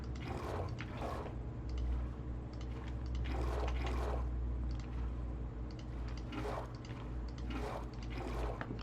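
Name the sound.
water being placed in video game Minecraft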